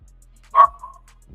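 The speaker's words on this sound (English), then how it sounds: "I know the dog barking." A schnauzer gives a single short, sharp bark, fairly close and loud, followed by a faint trailing yip and then quiet.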